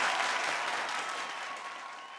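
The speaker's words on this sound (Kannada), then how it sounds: "ನಮ್ಮ ದಿವ್ಯ ಇದಾರೆ ಹೊಡಿರಿ ಚಪ್ಪಾಳೆ" Studio audience applause on a Kannada TV reality show for mothers: a dense, steady wash of clapping from a large crowd that tapers slightly toward the end, with no talking over it.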